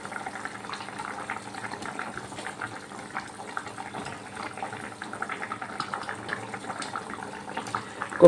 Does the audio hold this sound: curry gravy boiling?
yes